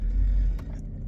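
A BMW 116i drives along with a steady, low engine rumble heard from inside or close by, loud and continuous for about a second.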